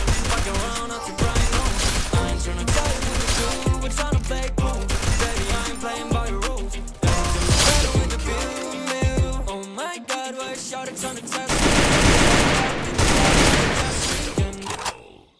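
Rapid bursts of gunfire in a first-person shooter video game, dense repeated shots and booms over a loud game soundtrack, with a brief lull midway before firing resumes.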